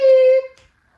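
A domestic cat gives a single loud, close meow, a clear tonal call lasting under half a second and then trailing off into quiet.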